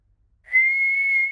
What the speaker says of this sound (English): George can whistle.